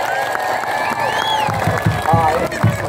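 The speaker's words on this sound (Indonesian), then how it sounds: "ada yang tepuk tangan, ada yang sorak-sorak" Spectators at the trophy handover ceremony of the Guntur Cup 2023 football tournament in Desa Gunung Lurah clap and cheer in a steady crowd murmur, with someone talking over the top throughout.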